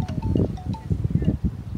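Wind gusting at a paragliding launch site on a cliff, low and buffeting against the microphone in uneven rushes, with faint distant voices and sounds mixed in.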